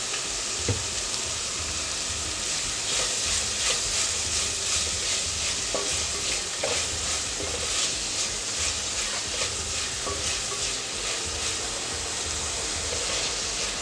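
Chopped onions sauté over a full gas flame in a pan, a dense continuous sizzle close by, with repeated scraping stir strokes at an irregular rhythm and no talking.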